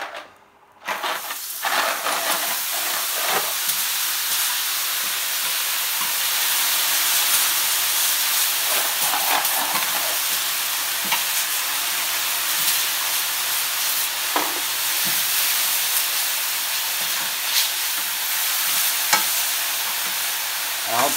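Ice cubes dropped onto a hot plancha hiss and sizzle loudly, a dense continuous wash of steam and frying noise lasting about twenty seconds with scattered pops and crackles and no talk.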